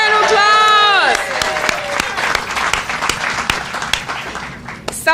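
An audience at a Suitland, Maryland community event claps after a brief drawn-out cheer from one voice at the start, then fills the room with steady, dense applause and scattered whoops.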